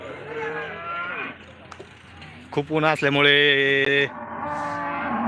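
Cows at the Loni cattle market give a long, loud moo in the middle, with someone speaking before and after it.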